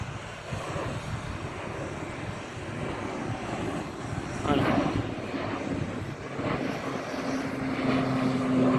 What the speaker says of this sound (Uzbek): Mana samolyot ko'tarildi mana, ketdi.